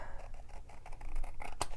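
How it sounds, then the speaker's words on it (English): Scissors snip along the overhanging edge of a card panel, a few quiet, close crisp cuts with a sharper click near the end. "I've got my scissors that are supposed to be"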